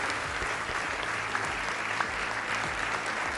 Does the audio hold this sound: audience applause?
yes